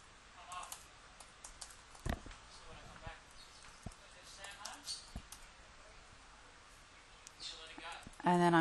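Typing on a computer keyboard while filling in an office memo template, scattered near key taps and clicks in irregular runs, fairly faint, with a louder bump at the end.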